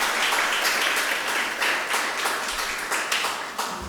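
Audience applause at the close of a talk on the OECD and Costa Rica's agenda, a dense, steady wash of many hands clapping that fills the whole stretch and slowly thins toward the end.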